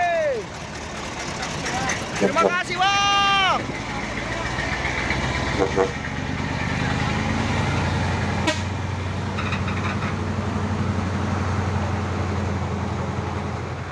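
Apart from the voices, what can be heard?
trailer truck engine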